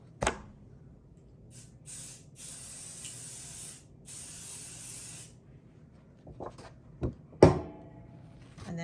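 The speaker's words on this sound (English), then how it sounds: "So I'm gonna go ahead and spray this." Tacky adhesive spray hissing onto a sheet of paper for machine embroidery on a journal, several short bursts close by with pauses between, then a sharp clatter near the end.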